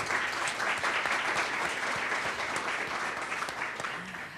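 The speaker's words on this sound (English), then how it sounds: "Please, an applause for Miryam." Steady applause from a crowd at a women in STEM panel event, dense and sustained throughout, slowly tapering slightly toward the end.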